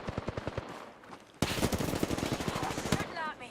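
Automatic gunfire in the Apex Legends video game: sparse shots at first, then a sudden loud, dense stretch of rapid bursts that keeps on, close and sharp, with a voice faintly present.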